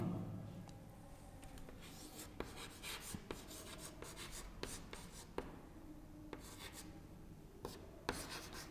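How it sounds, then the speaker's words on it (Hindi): Chalk or marker writing on a board during a Hindi-language history lecture: repeated scratchy strokes and taps, close and fairly quiet, with sharp clicks as letters are formed and no talk over it. "यहाँ पे लिख देता हूं"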